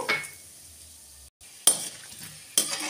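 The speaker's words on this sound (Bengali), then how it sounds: "প্রথমে কড়াই তেল দিয়ে গরম হলে বাদামটা ভেজে রেখে দেব।" Peanuts fry in oil in a wok, with a faint sizzle broken by a brief silence and two sharp metallic clinks of a utensil against the pan.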